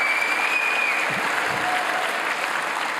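An audience applauds the founders of British Friends of Israel, steady dense clapping sustained for about three seconds at fairly close range, with no voices over it.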